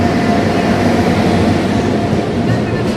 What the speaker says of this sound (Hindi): इंटरसिटी का निकलना हो रहा और यहाँ सचखंड एक्सप्रेस का आगमन।